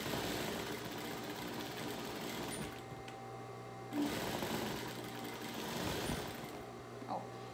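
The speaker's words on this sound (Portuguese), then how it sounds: "vamos costurar aqui a parte arredondada, deixando essa parte aberta" Sewing machine stitching the rounded edges of cloth doll parts, with a close, steady mechanical whir that pauses briefly and restarts, and no talking over it.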